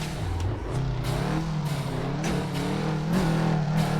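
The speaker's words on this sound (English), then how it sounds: "Bit of clutch kick action," A turbocharged AE86 Coupe Trueno in Assetto Corsa, its engine revving loud and steady with the pitch rising and dipping as the clutch is kicked, a close continuous drone with no talking.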